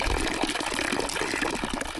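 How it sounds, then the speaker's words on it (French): Water from a small fountain in Milan falls into a little basin set at ground level, a steady, continuous splashing and trickling that stays close and even throughout with no voices. "entendre l'eau qui coule, qui tombe dans un petit bassin à même le sol, m'apaise"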